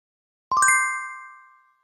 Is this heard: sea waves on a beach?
no